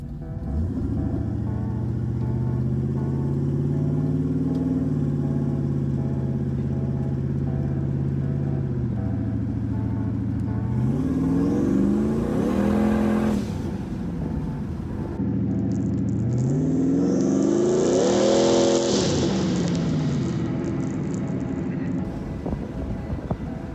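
A BMW E36 running a twin-turbo LS V8 pulls hard through long accelerations, its deep engine drone rising in pitch while loud spooling turbo whistles and whooshes surge over the top, close and alone with no voices.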